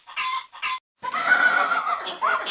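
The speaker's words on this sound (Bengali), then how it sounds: "আর সুমাইয়া বাড়ির হাঁস মুরগি দেখাশোনা করত।" Cartoon chickens clucking, two short clucks followed by a longer drawn-out cackle and a final cluck, close and clear against silence.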